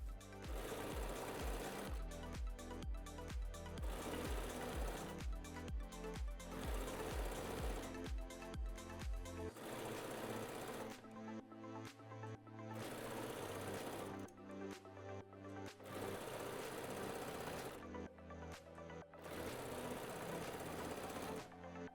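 Domestic sewing machine running straight stitch at 3.0 length with a walking foot, quilting wavy lines; a loud, steady rapid needle chatter in long bursts with brief pauses and speed changes, alone without talk.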